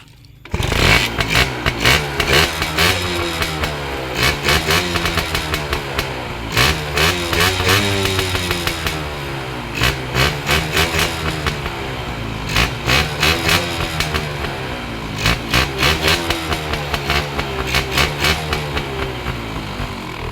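A racing motorcycle engine revs loudly and repeatedly, sharp bursts of throttle rising and falling close by, with a rough, raspy, chainsaw-like edge.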